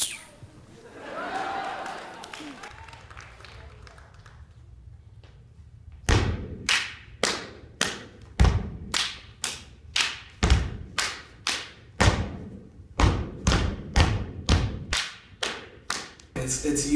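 A step dance team stomps and claps in unison, sharp thuds and hand claps landing in a tight, driving rhythm after a stretch of quieter murmuring, loud and close with a bit of voice early on.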